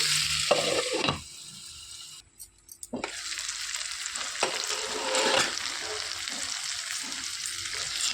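Mixed vegetable curry with tomato cooking in a pan, a close sizzle that drops briefly to near silence, then returns with scraping stir strokes and a steady hiss, no voices.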